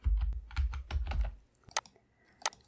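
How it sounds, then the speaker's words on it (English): Computer keyboard typing at a desk during a Scratch 3 coding session, a quick run of close, muted key taps at the start followed by a short pause and two isolated sharper clicks, likely mouse clicks. "And once I type Suzanne here and click it"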